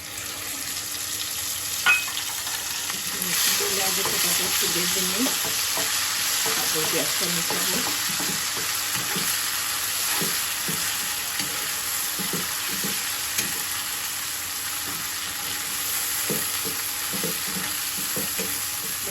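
Onions frying in oil with chepa shutki, fermented dried fish, giving a constant sizzling hiss with repeated spatula scrapes and taps against the pan, close and steady throughout, no talking.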